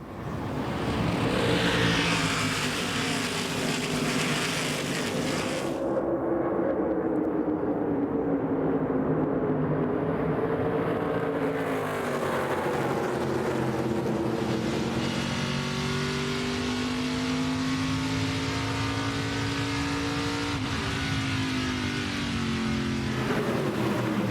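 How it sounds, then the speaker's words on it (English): ARCA Menards Series stock cars accelerating on the oval at Phoenix Raceway under green flag, a dense, continuous roar of many engines with rising and shifting pitch as the pack passes, loud and close throughout with no voices. "The green flag is in the air. They are ARCA Menards Series racing at Phoenix."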